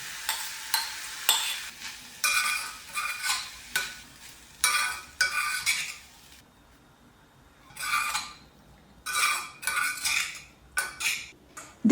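Cooked quinoa being stirred into a stuffing mix in a pan, repeated bursts of spoon scraping and clinking against the pan separated by short pauses, close and alone.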